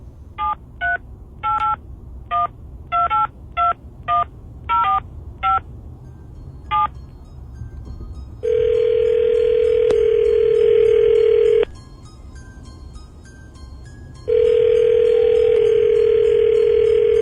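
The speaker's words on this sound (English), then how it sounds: "Let me get you your dial tone, and then it's off to the races. Whoever dials first." A telephone keypad beeps out a quick series of touch-tone digits, followed by two long steady dial-tone stretches separated by a short silence, loud and close.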